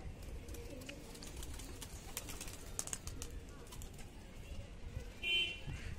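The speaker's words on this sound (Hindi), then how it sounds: "ये कबूतरी है अभी भाई" A pigeon coos softly on a rooftop, with faint low murmuring calls, scattered clicks and rustles, and a brief quiet voice in the background.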